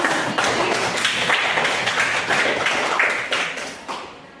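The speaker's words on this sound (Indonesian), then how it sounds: "Baik, kita berikan tepuk tangan." A classroom of students claps hands together in a steady burst of sharp, overlapping claps that holds for several seconds before thinning out at the end.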